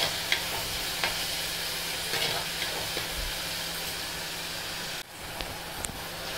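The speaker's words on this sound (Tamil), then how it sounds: "ஒரு 2 செகண்ட் நல்லா வதக்கி கொடுத்துக்கோங்க." Tomatoes sauté in a clay pot for a Kerala-style prawn curry, giving a steady soft sizzle with occasional stirring scrapes, fairly quiet and without talk.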